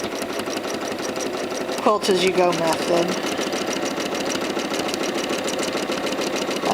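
A sewing machine whirs with rapid, steady free-motion quilting stitches throughout while a person speaks briefly partway through.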